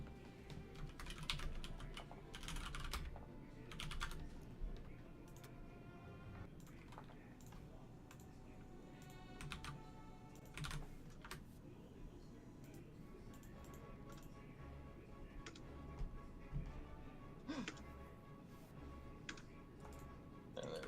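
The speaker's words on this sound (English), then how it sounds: "A lot of clicking." Rapid computer keyboard typing and mouse clicking during a Friday night blitz match of an Axis strategy game, a steady stream of close clicks and taps running throughout with occasional voices over it.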